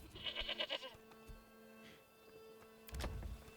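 Goats bleating in a farm-building video game, several short nasal calls clustered at the start and another near the end, set against a steady hum of game ambience.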